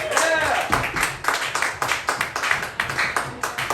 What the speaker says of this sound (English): round of applause for the other guys